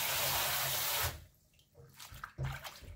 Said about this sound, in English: you want to go ahead and wash it and wash the leaf good.